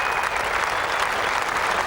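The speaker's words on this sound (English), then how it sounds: "But nevertheless, very generous applause from a crowd that really is appreciating the efforts of these big fellas." A large crowd applauds heartily for strongman competitors at the 2005 World's Strongest Man heats: dense, steady clapping that fills the whole stretch with no pauses.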